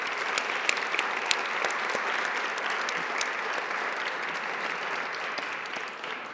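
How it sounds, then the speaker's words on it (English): Sustained audience applause at an arts advocacy day gathering: a dense, even wash of many hands clapping for about six seconds, with a few sharper individual claps standing out and no speech over it. "give them a big round of applause"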